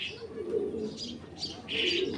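A black male racing pigeon of large size coos softly in short repeated phrases, with faint chirps around it and no one talking.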